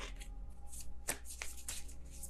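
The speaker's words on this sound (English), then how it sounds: "Kind of sloppy shuffle there." A deck of tarot cards is shuffled loosely by hand, soft riffling with a few sharp slaps of cards, close and quiet.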